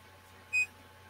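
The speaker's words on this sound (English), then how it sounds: "that's about all I can hear other than the beeping would be the fan" A Creality Ender 7 3D printer gives a single short, clear electronic beep over the low, steady hum of its cooling fan.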